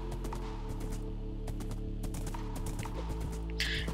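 Horse hooves in the Minecraft video game, quick light clip-clops repeating in a steady trot over a sustained musical drone, with no talking.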